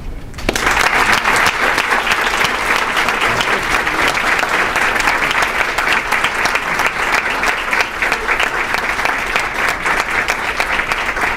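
An audience applauds to congratulate an insurance agency at a ribbon-cutting style announcement, a dense sustained clapping from a sizable crowd lasting several seconds, loud and continuous, with no voices on top.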